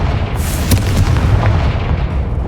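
A Confringo fire spell explodes in Hogwarts Legacy, a loud booming blast with a sharp crack near the start, followed by a rumbling, crackling low roar that carries on steadily to the end.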